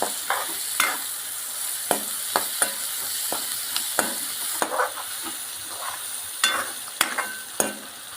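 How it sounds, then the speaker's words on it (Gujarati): Chopped onions sizzle and fry in hot oil for a Kathiyawadi-style karela (bitter gourd) curry, with steady hissing broken by repeated sharp scrapes and clacks of a spoon stirring the pan, close and with no talking. "હવે નાખીશું ડુંગળી. હલાવતા રહીએ આને."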